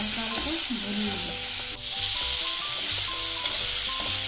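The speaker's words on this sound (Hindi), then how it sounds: "गोभी भी हमारी अच्छे से भुन गई है" Cauliflower with turmeric and salt frying in a pan for aloo gobi, a steady loud sizzle throughout with occasional stirring scrapes, no voices.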